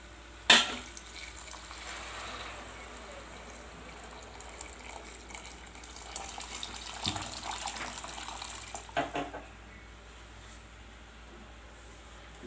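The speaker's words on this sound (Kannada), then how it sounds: "ನೀರನ್ನು ಹಾಕಿ" Water is poured into a cooking pot for Hyderabadi khichdi, a quiet splashing stream with a sharp knock at the start and a few louder surges later, faint and alone.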